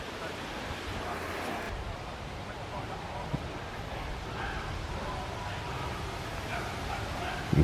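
Dogs bark in the distance from a nearby kennel beside a campsite at Phillips Farm, Mildenhall, faint and scattered beneath a steady outdoor wash of background noise.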